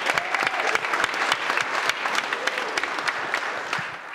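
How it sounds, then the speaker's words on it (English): An audience at a DevOps conference applauding steadily, a dense patter of many hands clapping at close range, sustained throughout with no speech. "Why don't we all give them a big round of applause as well?"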